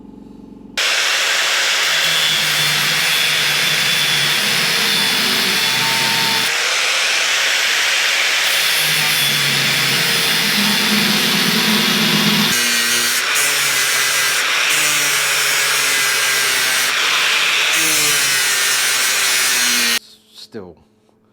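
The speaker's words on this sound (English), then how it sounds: "then the rest we'll just carefully grind away" Power grinder working down metal on a Royal Enfield bobber motorcycle build, a loud continuous whine with shifting pitch for about twenty seconds before cutting off, close and dominant.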